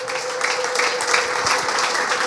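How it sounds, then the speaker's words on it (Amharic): A church congregation claps steadily, with a sustained high ululation running through the applause. The sound is fairly loud and evenly dense throughout the short burst. "ለእግዚአብሔር ምሕረት እልልታ፣ ጨብጨባ"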